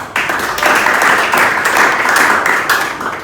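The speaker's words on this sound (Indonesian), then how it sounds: "tepuk tangan untuk Putri." Steady applause from a class, a dense crackle of many hands clapping together for a few seconds.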